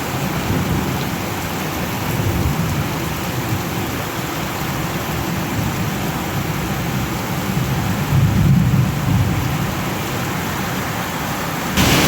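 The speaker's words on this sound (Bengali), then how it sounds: "অবশেষে বর্ষা নামলো। অঝোরে বর্ষা।" Heavy rain pours down steadily during a Kalbaishakhi thunderstorm, a dense close roar of drops on surfaces, with a low rumble of thunder swelling briefly near the end and no voices.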